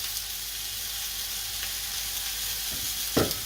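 Meat sizzling in a frying pan, a steady close hiss and crackle with a few brief scrapes or stirring knocks near the end.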